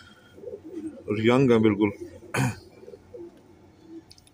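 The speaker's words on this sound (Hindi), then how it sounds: "दोनों तरफ काम करने वाले कबूतर हैं माशाल्लाह" Pigeons cooing up close: a throaty rolling coo stands out clearly, followed by a short burst of wing or beak noise, with someone speaking briefly over the birds.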